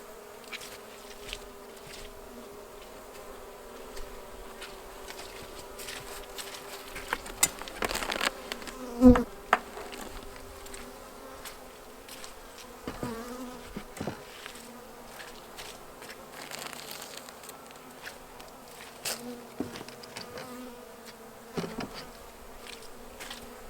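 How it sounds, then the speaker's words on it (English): Steady buzzing of many honeybees at close range at a hive entrance, with individual bees zipping past now and then. "there are a lot of bees on the inside"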